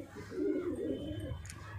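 A close pigeon, a Jaipur high-flyer of the brownish bajra type, gives a soft, throaty, rolling coo that lasts about a second, with faint background noise.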